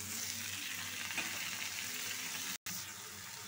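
Green peas and tomato pieces fry in a pan for pani puri chaat, producing a steady, moderately quiet sizzle that cuts out briefly near the end before resuming.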